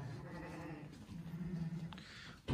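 Goats bleat in a snowy, cold farmyard with pens and water troughs, a few wavering calls rising over a low background murmur, with a louder, sharper cry at the very end.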